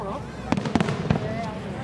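Fireworks exploding at a Twin Lakes display, several sharp bangs in quick succession heard under ongoing talk and crowd noise.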